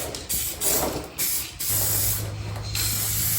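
Spray gun applying the final coat of paint to a Hyundai Elantra, close hissing bursts with short pauses between passes, over a low steady hum.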